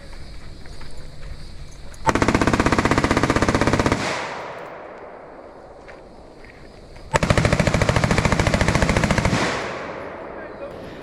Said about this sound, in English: Got some shooting going on.